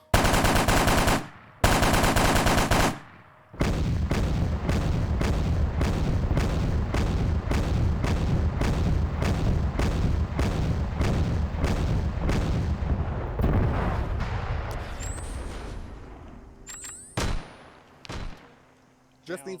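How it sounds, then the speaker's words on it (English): Autocannon fire in a combat video game: an opening of dense blasts, then a long run of rapid rhythmic heavy shots, loud and close, tapering into scattered booms and whooshes. "Autocannon, autocannon."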